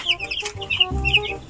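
Chickens cluck close by in a quick run of short, throaty calls, several birds overlapping, loud and clear with no talk.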